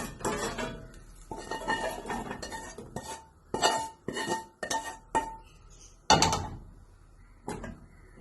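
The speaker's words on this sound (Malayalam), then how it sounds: "ഇത് നമുക്ക് മാറ്റി വെക്കാം. പാത്രത്തിലേക്ക് മാറ്റാം." Cooked Afghani kheema being moved from the cooking pan into a serving dish, with metal utensils scraping and clinking against the vessels in irregular bursts, close by and with no talking.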